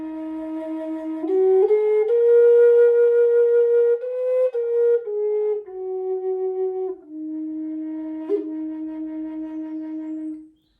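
A drone flute tuned to 432 Hz plays a slow, sustained melody, its notes shifting through thumb-hole pitches over a steady tone, clear and close, ending in silence.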